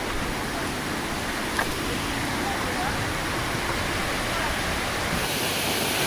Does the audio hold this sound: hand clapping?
no